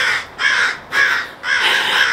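Crows caw loudly and close, three harsh calls in a steady rhythm about half a second apart, with no voices over them.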